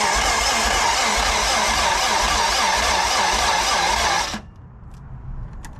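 K20-swapped Honda EF sedan engine turning over on its first start attempt, a loud, dense, continuous cranking whir lasting about four seconds before cutting off abruptly into near silence.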